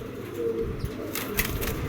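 Koka pigeons, a Basiraj variety, flapping their wings in a loft, with a close burst of fluttering and a faint coo under a steady background hum, with no talking.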